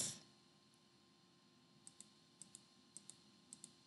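Sparse computer keyboard and mouse clicks during a game session, about eight sharp, quiet ticks arriving in pairs over the second half, with near silence and a brief burst at the very start.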